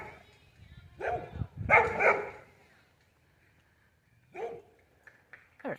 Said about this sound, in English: There's puppies.